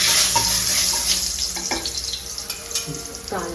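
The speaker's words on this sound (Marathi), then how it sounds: "कांदा टाकून घेतलेला आहे चांगला परतून घ्यायचा" Onion frying in hot oil with asafoetida in a pan, a close sizzling hiss that gradually settles, with a few stirring clinks and knocks.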